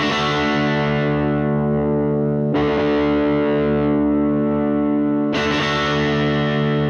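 A distorted electric guitar with its tone knob turned up, giving a brighter sound: three loud sustained chords, each struck and left ringing, played alone with no talking.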